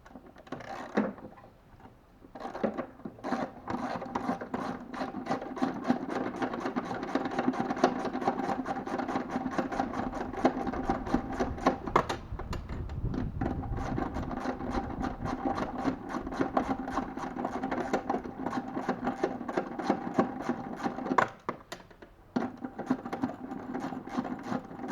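A bolt on the air filter cover of a Mahindra Scorpio is unscrewed with a hand tool, giving a long run of quick, close ratcheting clicks and scraping, with no talking.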